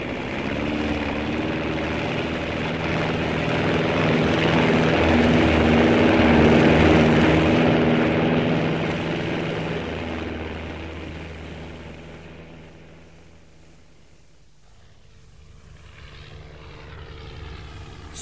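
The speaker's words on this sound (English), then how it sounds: "Takeoff was quite smooth." A propeller aircraft takes off in a radio drama, its engine droning loud and steady as it builds to a peak, then fades into the distance as the plane climbs away.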